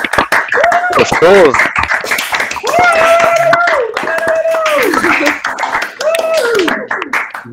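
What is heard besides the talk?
audience applause for the speaker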